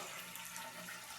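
Water spilling and draining steadily out the side of an overfilled container, a continuous wash of trickling and splashing at a faint, even level with no voices.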